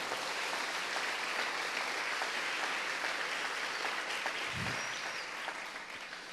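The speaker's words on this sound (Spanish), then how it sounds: "Denle un fuerte aplauso a ese Señor." A church congregation applauds in praise during a sermon, a dense, steady wash of clapping that carries on evenly and fades slightly at the end.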